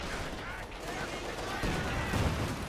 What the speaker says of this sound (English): KV-1 is shooting and missing.